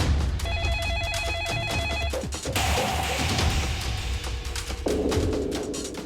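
A phone call's ringing tone chirps in a short repeating electronic pattern, then gives way to a busier noisy stretch with thumps and a lower tone, recorded close indoors.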